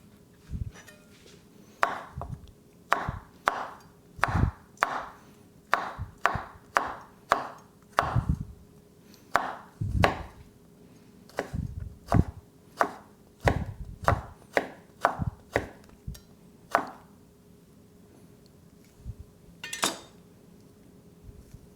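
A knife slices orange peel on a board with a bench scraper nearby for marmalade, giving a long run of sharp, close chopping thuds in an uneven rhythm, some hits lighter where cuts don't go all the way through.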